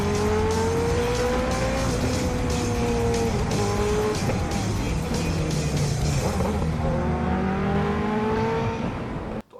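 Inline four engine of a Honda CBR650R motorcycle revving, a loud close howl rising and falling in pitch through several sweeps, with no talk over it.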